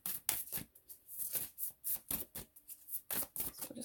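Sacred Traveler or Sacred Journey tarot deck shuffled by hand, a quick series of close, soft riffling and flicking bursts in an uneven rhythm, heard alone.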